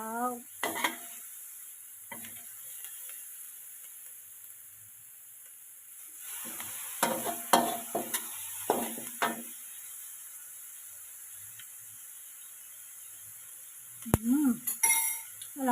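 Garlic chive flowers being stir-fried in a pan, with bursts of utensil scraping and sizzle at intervals under a steady faint background hiss, plus a couple of sharp clinks.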